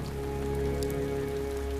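Steady rain pattering on a surface, a dense, even hiss of drops with no pauses.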